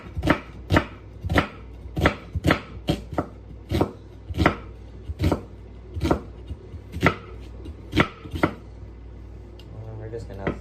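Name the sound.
knife slicing an onion thinly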